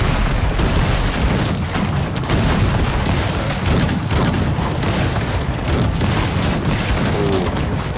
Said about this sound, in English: See the artillery fire.